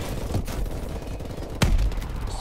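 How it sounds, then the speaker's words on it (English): Video game swarm missiles fire in a dense burst of rapid launches and blasts, with one sharp, loud crack near the middle followed by rumbling booms. "Swarm missiles ready. Swarm missiles reloading."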